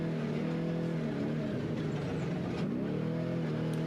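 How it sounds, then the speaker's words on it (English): All-wheel-drive trophy truck engines roar continuously at a San Felipe 250 off-road desert race, with a loud, sustained mechanical drone whose pitch shifts as a truck passes. "you can hear the difference in the engines whenever we're watching the all-wheel drive trophy trucks"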